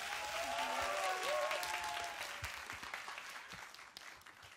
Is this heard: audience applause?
yes